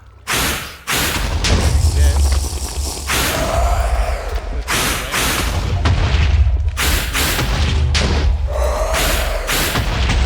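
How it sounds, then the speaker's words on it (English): Minecraft explosions boom loudly several times in a row, each a heavy low thump with a broad roar, alongside mechanical game noises while a person talks over the action. "Wait for the explosion."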